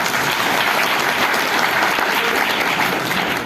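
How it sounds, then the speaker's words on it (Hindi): Dense, steady applause from a large seminar audience at an RTP event in Nathdwara, loud and continuous throughout with no voices rising above it. "अपने माइंडसेट के लिए एक बार जोरदार तालियां बजाएं"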